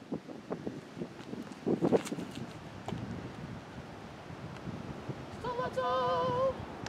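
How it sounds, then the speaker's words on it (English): Strong wind buffeting a microphone on a golf course during a disc golf round, a continuous rough roar with gusts, while tonal whistling chirps rise near the end. "I had to turn the audio way down on a lot of this video because there was just so much wind"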